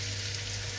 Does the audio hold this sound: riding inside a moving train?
no